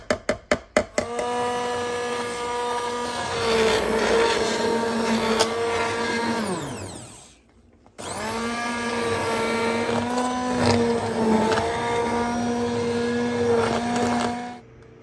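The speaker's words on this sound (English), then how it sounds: "I want to take my immersion blender to this." Immersion blender puréeing a slow-cooked soup after four hours on high: a steady, loud motorized whir with shifting pitch, briefly stopping mid-way before starting up again, with a few sharp clicks at the start.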